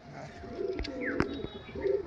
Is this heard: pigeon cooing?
yes